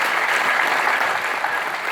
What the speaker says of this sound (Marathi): परत त्यांचं एकदा टाळ्या वाजवून सर्वांनी स्वागत करावं